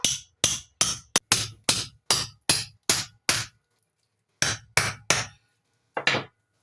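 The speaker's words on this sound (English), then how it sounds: "So I'm going to take my knife again and my hammer." A hammer strikes the back of a knife again and again to split a whole chicken, giving about eleven sharp, loud blows in a quick steady run, a short pause, then three more and one final knock.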